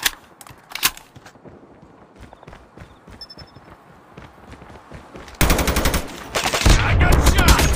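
Gunfire in a video game, with scattered shots and footsteps at first, then a sudden loud, sustained burst of rapid automatic fire and explosions near the end. No one speaks.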